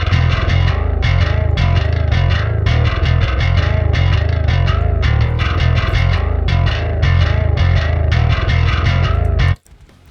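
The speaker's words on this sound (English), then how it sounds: "So basically, through the plugin, the bass sounds like this" A distorted bass guitar runs through an amp-simulator plugin, chugging in a busy riff for about nine seconds before cutting off abruptly, loud and alone.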